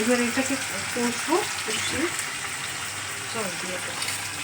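Chicken curry sautéing in a pan produces a continuous sizzle with stirring scrapes, while a voice talks intermittently over it.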